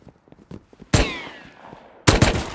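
Gunfire in the video game Rust: two sharp, loud shots about a second apart, the first trailing off in a ringing decay, with faint scattered clicks before them.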